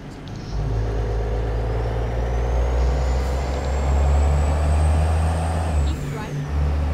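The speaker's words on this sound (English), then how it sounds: "Jake brakes sound a little bit better" An engine brake on a heavy truck in American Truck Simulator, a 379 rig, drones as a loud, steady low roar with a slowly rising whine, then drops off briefly near the end.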